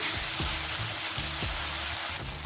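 Spice paste with salt and turmeric sizzles as it is stirred in a frying pan, a steady hiss broken by several soft scraping strokes of the spoon, close and continuous with no talk.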